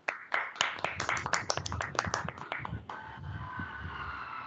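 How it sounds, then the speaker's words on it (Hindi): Students and staff at a Hindi Diwas school assembly clap for young poets, a brisk, close burst of sharp, distinct handclaps that stops after about three seconds, leaving a quieter hall murmur and a brief voice. "हमारे नन्हे मुन्ने कवियों के लिए एक बार जोरदार तालियां बजा दीजिए"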